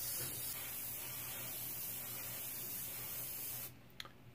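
Steady airbrush hiss spraying paint over a hand-cut stencil for practice lines, continuous and close for most of the stretch before cutting off near the end, followed by a couple of faint clicks.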